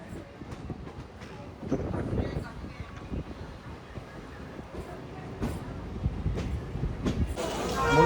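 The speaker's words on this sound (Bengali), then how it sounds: "বন্ধুরা আমাদের ট্রেন এখন এসে প্রবেশ করলো নৈহাটি জংশন রেল স্টেশনে 1 নম্বর প্ল্যাটফর্মে।" A train rolls in to platform 1 at Naihati Junction railway station, a low rumble of wheels and carriages with soft rattling that swells and fades, heard from on board amid faint background noise.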